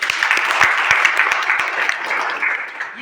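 Steady, dense applause from a crowd at a motivational seminar in a college, loud and sustained throughout, with a few sharper individual claps standing out.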